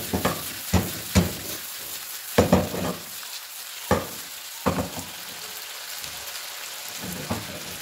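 Vegetables frying in oil in a pan for pakoras, a steady soft sizzle and crackle with several louder bursts of stirring and scraping, close by and with no voices.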